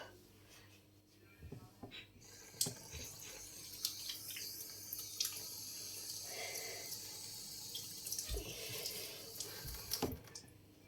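Tap water runs faintly at a kitchen faucet while a tomato is washed, a soft continuous splash broken by a few sharp knocks and handling clatters.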